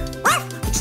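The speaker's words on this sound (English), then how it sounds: "Dog." Short synthetic dog bark from a children's toy, a single yappy bow-wow rising over a brief moment, close and fairly loud in a quiet room.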